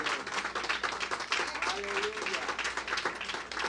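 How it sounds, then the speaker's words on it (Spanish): A Spanish-speaking church congregation gives a big round of applause, dense rapid clapping throughout, with a voice briefly heard over it. "Dale ese aplauso grande al Señor."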